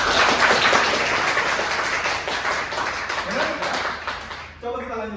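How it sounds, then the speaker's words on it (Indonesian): An audience at a university lecture session gives a burst of applause, dense clapping that is loud at first, then fades over several seconds and stops abruptly near the end, with a voice resuming. "kasih aplaus teman-teman"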